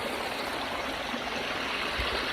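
A small creek flows steadily nearby, a dense, even rush of water with no talking over it.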